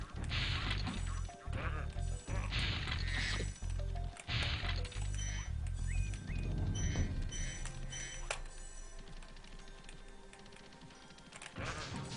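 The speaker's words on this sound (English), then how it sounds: "Sheep are everywhere." Sheep in the Spyro the Dragon video game bleat several times in short bursts, mixed with clacking and thudding game effects and other scattered digital sounds, fairly close and busy.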